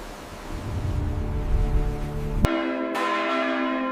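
Church bells ringing for midday prayer in a great cathedral in Spain, loud, resonant strikes with a long ringing decay, alone without voices.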